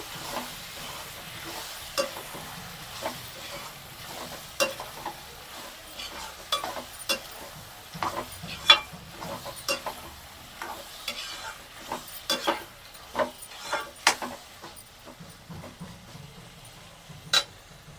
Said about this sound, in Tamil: இதில் மசாலாலாம் போட்டு இப்போ இதை நல்லா கலந்து விட்டுக்கலாம்